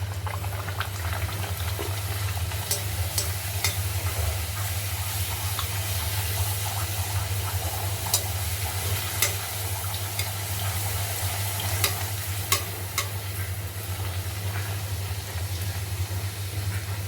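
Puri dough of moong dal and spiced flour frying in well-heated groundnut oil, a steady close bubbling and sizzle running throughout with a few brighter pops and crackles.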